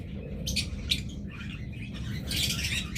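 Violet opaline pet birds, likely budgerigars, chirp and squawk in short bursts from a nearby cage, several sharp tweets scattered over a low background hum, with no one talking.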